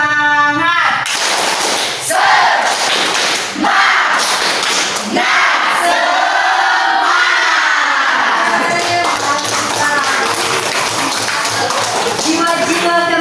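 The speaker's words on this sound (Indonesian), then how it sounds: "Tepuk semangat." A classroom of students performs a rhythmic spirit clap chant, loud patterned clapping mixed with voices calling out together, close and energetic.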